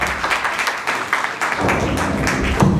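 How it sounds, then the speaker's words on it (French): Audience at a live comedy stage show applauding and cheering for the fathers, a steady wash of clapping with a few louder bursts that swells toward the end. "Les papas, acclamons."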